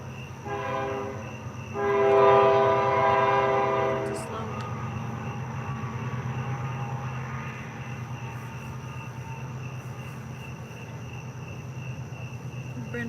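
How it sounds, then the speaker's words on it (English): A train rumbles past at a distance while its horn blows a couple of sustained, harmonic blasts, the loudest after about two seconds, followed by steady rolling rail noise. "We'll let this train go by."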